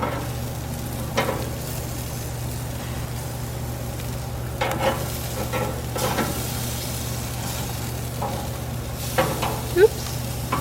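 Salmon fillets sizzle steadily on a grill after being flipped, a constant close frying hiss with occasional scraping and light handling noises.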